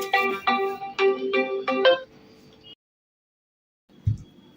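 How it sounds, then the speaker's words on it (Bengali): A mobile phone ringtone plays a short repeated melodic pattern of bright tones, several quick bursts close and clear, then stops, followed by silence and a brief dull thump. "এখন আবার কে ফোন করছে?"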